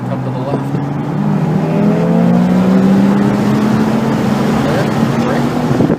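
A BMW accelerates hard on the Circuit of the Americas race track, its engine note climbing steadily in pitch as it gains speed, loud and close, with in-car engine drone throughout.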